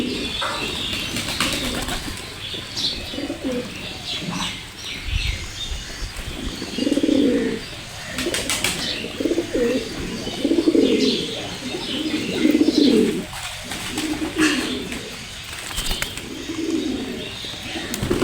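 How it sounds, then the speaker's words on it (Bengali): Pigeons cooing nearby in a domestic pigeon keeping setting, repeated low rolling coos in a loose rhythm with occasional wing flutters and faint chirps, loud and close with no talk over them. "ও মোহাম্মদ এই কবুতরটা দেখতে ভালো।"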